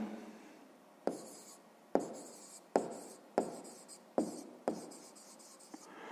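A pen writes a maths answer on paper in six or seven short, crisp strokes at a regular pace, close and quiet, with no talking.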